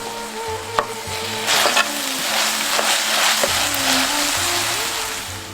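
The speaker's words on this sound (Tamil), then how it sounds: "சேர்த்துக்கிட்ட வெங்காயம் நல்லா வதங்கினதும் அரைச்சு வச்சிருந்த இஞ்சி பூண்டை சேர்த்துக்குவோம்." Sliced onions sizzle steadily in hot oil as ginger garlic paste is stirred in for a pepper chicken dish, a loud, close, continuous frying hiss broken by a few clinks from the stirring spoon.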